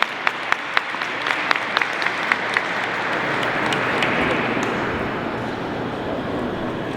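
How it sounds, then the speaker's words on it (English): A few sharp individual claps open, then swell into a full round of sustained crowd applause at a Kwanzaa gathering that gradually thins near the end. "Big round of applause for her"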